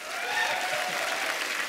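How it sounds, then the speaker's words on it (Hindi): Studio audience at a comedy talk show breaks into loud, sustained applause, a dense steady wash of clapping throughout with no pause. "इनके लिए जोरदार ताली हो जाए।"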